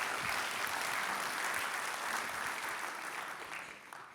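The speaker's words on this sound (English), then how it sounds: "Round of applause for Habitat for Humanity." Audience applause for a Habitat for Humanity housing group at a Long Beach community event, a steady wash of clapping that holds level and tapers slightly toward the end, with no voices over it.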